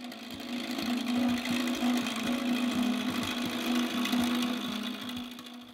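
Lathe turning a wooden French rolling pin with a diamond-shaped tool, a steady motor hum under a rough scraping cut that pulses slightly, continuous and close.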